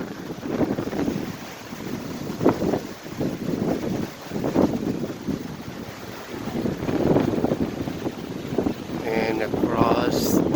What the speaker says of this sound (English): Oh, the wind is so strong.